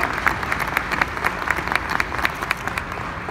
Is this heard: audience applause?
yes